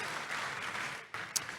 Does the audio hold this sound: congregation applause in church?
yes